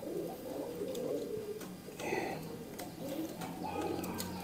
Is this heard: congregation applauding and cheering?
no